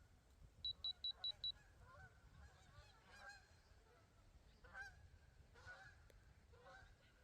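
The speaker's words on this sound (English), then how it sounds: "while the geese are taking off for their practice flight" Geese honk as they take off for a practice flight. Several loud honks sound at mid-distance over outdoor ambience, with a short run of electronic beeps near the start.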